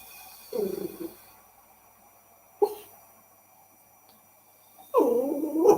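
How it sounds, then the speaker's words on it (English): A dog gives three short, gruff vocal bursts, rough and low like barks and growls, separated by pauses in a quiet indoor space. "The dog always barks"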